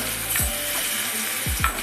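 Tomato pulp sizzling in a pan with garlic paste while a spoon stirs it, a steady frying hiss broken by a few scraping strokes against the pan, close and clear with no talk.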